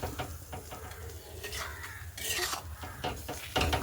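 A spoon scrapes and clinks in a pan as mustard paste and green chili paste are stirred into cooked drumstick and potato curry, several close, irregular strokes with a brief louder clatter near the end.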